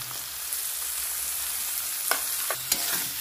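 A pan of mashed eggplant and potato with onions hisses in a steady, close sizzle, with a few brief scrapes from stirring near the end.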